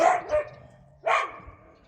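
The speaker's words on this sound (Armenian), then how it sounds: "բոլորի վրա հաչում են, դուք ծեծ եք ուտելու։" Several dogs bark in two sharp, close bursts about a second apart, loud against a quiet background.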